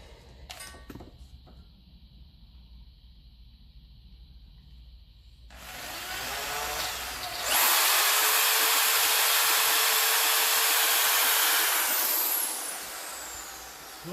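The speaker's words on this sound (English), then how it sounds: "I'm going to start with a small drill bit, see if it wants to bite" A brand-new power drill with a small bit whirs up to a loud, high, steady whine and holds it for several seconds before slowing. Faint clicks and rustling come first, and nobody speaks.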